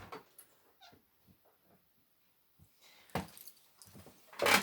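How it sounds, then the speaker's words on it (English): A very loud pet cat cries out indoors in the background, with faint scattered whines at first and then two louder, whiny yowls near the end. "one of the things that I have is a very loud cat."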